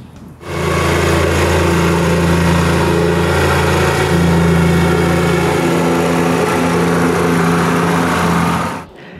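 A gasoline plate compactor runs steadily on sand spread for a firewood pile base, a loud continuous engine drone with strong low hum that starts abruptly, holds for about eight seconds, then cuts off.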